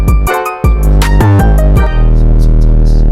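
A distorted 808 bass in FL Studio plays loud and booming, with heavy saturated low end and gritty harmonics, hitting in a short rhythmic pattern alongside crisp percussion.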